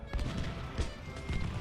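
Massed rifle and cannon fire from an Ultimate General: Civil War battle at Malvern Hill, a steady din of overlapping shots and booms with no clear gaps, carrying on without any voices over it.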